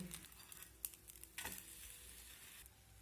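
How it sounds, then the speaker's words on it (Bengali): A stuffed paratha sizzles and fries in a pan right after being flipped, giving a steady close crackle with a few brief scraping stirs and no voices. "এখন আমি অপর পাশটা ভাজার জন্য উল্টে দেব"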